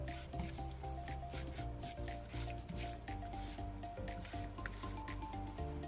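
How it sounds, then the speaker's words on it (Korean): Chive pancake batter is worked by hand with the prepared ingredients and fish sauce, giving soft, wet squelching and sloshing close up, set against steady background music. "반죽물에 손질한 재료들을 모두 넣어줍니다. 액젓 1큰술을 넣고 잘 버무려주세요."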